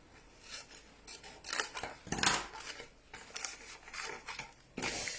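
Scissors cut straight through paper to make a box for a chocolate Father Christmas, giving a close run of short crisp snips and rustles in an irregular rhythm, with no talking.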